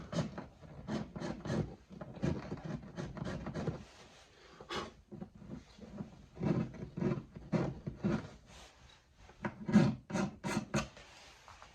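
A scraper rasps rhythmically over an acoustic guitar's bridge patch, taking it down to bare wood with steady back-and-forth strokes, close and clear for the whole stretch, with no talking.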